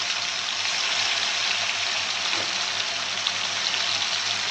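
Rui fish fries in hot oil with a steady, dense, close sizzle that holds evenly throughout, with no pauses or talk.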